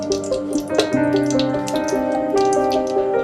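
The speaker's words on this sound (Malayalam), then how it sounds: "നമ്മൾ അതിലേക്ക് 1/2 കപ്പ് ഓയിൽ ചേർക്കാം." Half a cup of oil streams into a hot pan with a continuous ringing, gurgling pour lasting a few seconds, close by and without talk.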